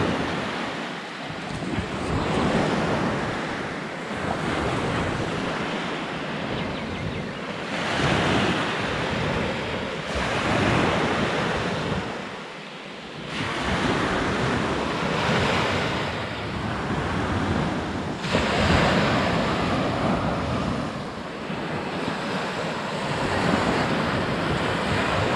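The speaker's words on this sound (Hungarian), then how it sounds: "Nem fúj a szél, viszont mégis milyen erős a hullámverés." Strong surf pounds a Greek beach in steady, rolling waves, a loud continuous wash with recurring surges and some wind noise on the microphone, no voices.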